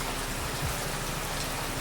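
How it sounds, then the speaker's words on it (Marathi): Heavy monsoon rain falls in Devgad in Konkan, a dense, unbroken hiss of drops drumming on surfaces close by, steady and loud throughout with no voices. "पावसाचं वातावरण या सकाळपासून जर चालू आहे तर अजून पण आहे"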